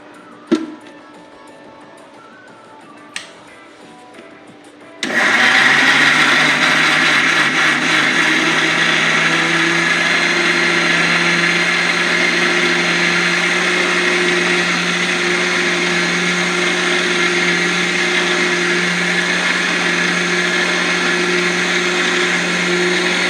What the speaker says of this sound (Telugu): చూడండి, నేను మిక్సీ చేస్తాను.